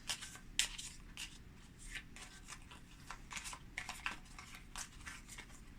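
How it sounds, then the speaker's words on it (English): Game cards for the board game Eila and Something Shiny are shuffled by hand, quiet papery riffles and flicks repeating in short bursts at close range with no talking. "Shuffle up these cards."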